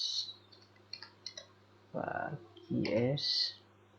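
Sparse clicks of keys tapped on a computer keyboard while typing code, a few quick bursts over a low steady hum, then a voice speaks over the quieter background.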